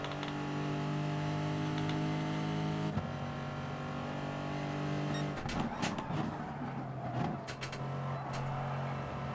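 A race car drives in Gran Turismo Sport, its engine holding a steady loud drone that shifts pitch midway, then rises and falls as it accelerates, with tyre noise underneath.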